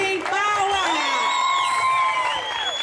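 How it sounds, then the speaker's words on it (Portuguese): An audience at a live youth music event whoops and cheers with rising and falling shouts and whistle-like voices, fairly loud and close, while clapping is not clearly distinct. "Quem gostou, bate forte, bem palmas!"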